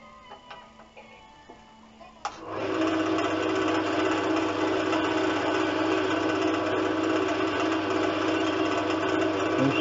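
Drill boring a hole through wood to make a smoking pipe, a steady, loud whirring drone with a ticking rattle that starts abruptly about two seconds in and runs unbroken to the end after quiet handling noises.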